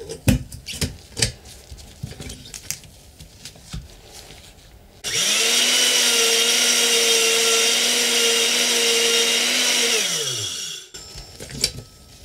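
A blender whirs through leftover fermented chili hot sauce mash, a loud steady motor drone for about five seconds that winds down and stops, with scattered clatter and knocks before and after.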